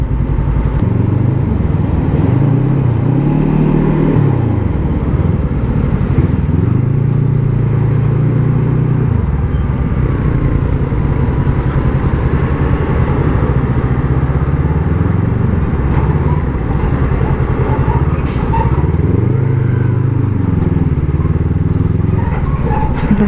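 Small motorcycles ride alongside in city traffic, a steady loud engine drone with rising and falling revs from nearby bikes, continuous throughout.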